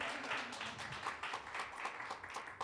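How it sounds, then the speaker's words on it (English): A church congregation applauds with steady, scattered clapping that carries through the room at moderate volume. "And also another round of applause for his son"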